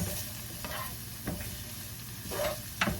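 Ginger and celery sauté in a pan with a steady, soft sizzle, broken by a few brief scraping stirs of a utensil; nobody speaks.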